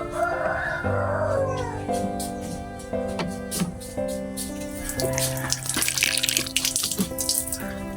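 Water splashes and runs steadily while chili peppers are washed by hand, close and continuous, with a faint tonal hum and scattered clinks underneath.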